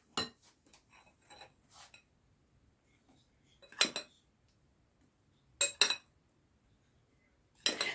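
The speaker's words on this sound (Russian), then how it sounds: "Вымешиваю немножко лопаткой, буквально пара движений." Sweet bun dough being mixed with a spatula in a bowl, a few sparse clinks and scrapes of the utensil against the bowl separated by quiet pauses, close and fairly soft, no talk.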